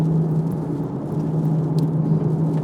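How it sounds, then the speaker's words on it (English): Steady low exhaust drone from a manual Porsche 911 GTS sports car just after shifting into second gear, a continuous rumbling note held evenly throughout at moderate level, with no voices over it. "I'm not sure whether there's any exhaust note that sounds better than that."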